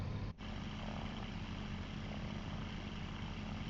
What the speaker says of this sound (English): I love this little airplane